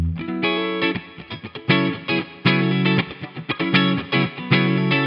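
Electric guitar through a NUX amp modeler on a Fender Super Reverb clean tone, chiming, played in rhythmic strummed chords with sharp attacks and short ringing decays.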